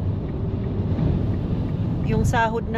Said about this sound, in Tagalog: Malakas hangin.